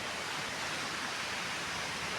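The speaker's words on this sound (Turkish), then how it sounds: "İşte şelale arkadaşlar. Cilandras şelalesi ve arkamda Cilandras köprüsü." The Clandras waterfall near Uşak, Turkey roars as a dense, continuous broadband rush of falling water, loud and steady throughout with no voices.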